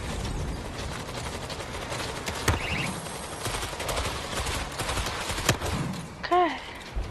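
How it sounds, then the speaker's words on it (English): Rapid automatic gunfire from a turret machine gun in a zombie shooter game, loud and sustained with sharp bursts over a dense mix of game effects and other shots. "Oh, you got that turret going."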